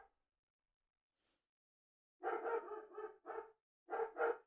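Dogs bark in a short burst of sharp, repeated woofs, a cluster of barks then two more after a brief pause, fairly close and clear over an otherwise quiet room.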